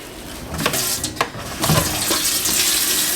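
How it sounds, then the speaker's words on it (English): A steady spray of hot water hissing against a dirty metal pan, with a few splashy clatters and shifts in the flow. "Now I'm just going to use some hot water here just to kind of spray off"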